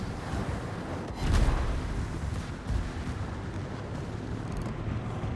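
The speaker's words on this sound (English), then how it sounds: "Now I've got literally 4 guys shooting at me." Naval combat video game battle with booming gunfire and shell impacts, a rumbling wash of distant shots and a louder burst near the start, steady and fairly faint throughout.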